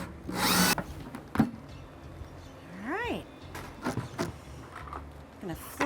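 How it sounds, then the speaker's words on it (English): A power drill whirs in a short burst as it bores through the bottom of a plastic 5-gallon bucket, followed by someone talking and scattered handling noises. "So I've got my drill here."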